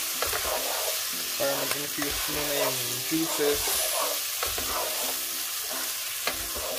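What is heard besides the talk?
rice stir-frying with chicken, garlic and ginger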